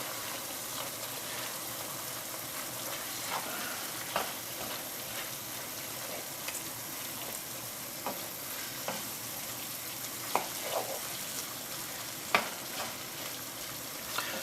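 Beef mince with a crumbled stock cube sizzles steadily in a pan while being stirred, soft scraping and occasional light clicks of the utensil over a continuous frying hiss.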